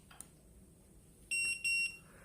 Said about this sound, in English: hold on to it and count to 1 and wait for it to beep, like this